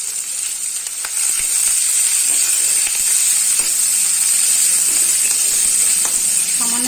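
Chopped onions with cardamom fry in a pan with a steady, loud sizzle and hiss, broken by occasional faint clicks of stirring.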